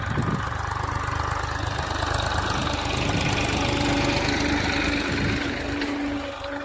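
Tractor engine running steadily in a field during chickpea sowing, a continuous low rumbling chug, moderately near, with no talk.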